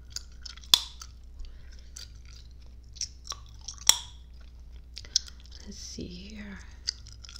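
Gum chewing up close, with soft sticky clicks and a few sharp cracks spaced apart over a quiet background, and a brief soft-spoken voice near the end.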